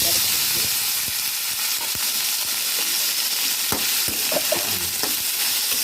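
Coconut pieces fry steadily in hot oil, a continuous loud sizzle with occasional sharp pops and stirring clicks, with no talk over it.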